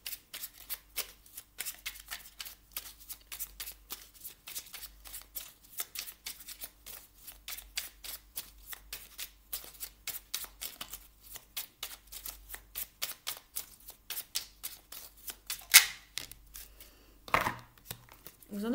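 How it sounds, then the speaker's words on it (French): Oracle cards are shuffled and drawn by hand for a small Merlin oracle deck, a long run of quick, papery riffling flicks, steady and close, with a brief louder snap near the end and no talk over it. "On va aller chercher une carte ici du petit oracle de Merlin."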